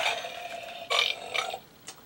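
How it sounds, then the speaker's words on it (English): A DX Medagaburyu toy plays its electronic burp sound effect, a short, bright, crackly belch followed by a smaller second burst, loud and close with no talk. "There's the other burp sound effect."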